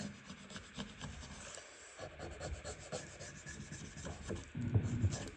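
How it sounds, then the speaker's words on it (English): A gunsmith's tool scraping the protective layer off a metal surface, soft uneven rubbing and rasping strokes, faint and close, with a few slightly louder scrapes near the end. "It's just starting scraping off the first layer of this protective layer."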